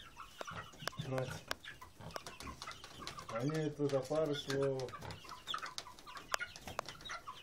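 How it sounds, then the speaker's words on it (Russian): Month-old chicks clucking and chirping close by, with a person speaking quietly over the birds. "Вот он наш цыплята."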